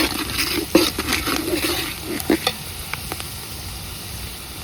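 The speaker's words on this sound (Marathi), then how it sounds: "आता हळद टाकून घ्यायचे हलवून." Turmeric stirred into a thick pot of food on a wood-fired clay stove, a soft sizzle and frying hiss with scraping stirs and a few sharp clinks of the utensil against the pot.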